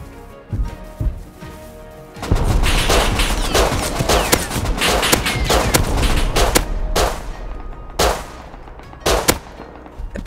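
Semi-automatic pistol fire in the Rust survival shooter during a large battle: rapid bursts of loud shots and overlapping gunfire, with a few sharp single cracks at the end.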